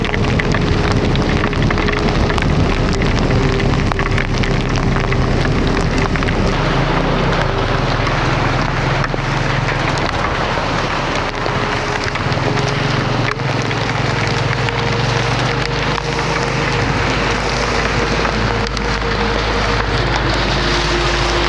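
Heavy hail pelts down in Kashmir, a dense, unbroken rattle of hard pellets on surfaces that lasts throughout, with a steady low engine hum running underneath.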